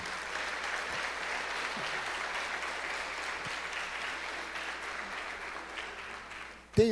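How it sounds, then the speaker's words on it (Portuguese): A church congregation applauds steadily for nearly seven seconds, a dense even wash of clapping that ends with a brief louder burst. "Uma salva de palmas a Jesus."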